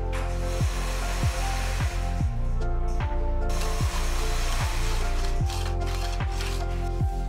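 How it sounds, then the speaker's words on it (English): A cheap miter saw with a blunt blade cuts through MDF, a loud steady motor whine with a regular chopping pulse about every 0.6 seconds, close and continuous throughout. "I try to cut MDF."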